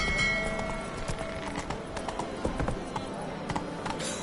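Roach, the horse in The Witcher 3 video game, gallops steadily with rhythmic clip-clop hoofbeats at a moderate distance, a continuous run of hooves over a soft background.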